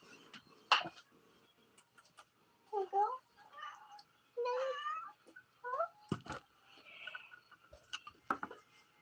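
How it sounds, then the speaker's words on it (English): A house cat makes several soft, scattered meows and little chirps in a quiet indoor room, interspersed with faint clicks and handling sounds. "I can bring my little pussy cat."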